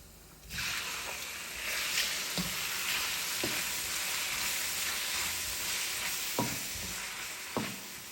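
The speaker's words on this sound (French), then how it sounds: "je vais ajouter ici mes 3 gousses d'ail. Je fais revenir 1 à 2 minutes" Three garlic cloves frying in a pan for noodles with vegetables and shrimp, a steady close sizzle starting abruptly and holding evenly, with a few soft utensil taps and no talking.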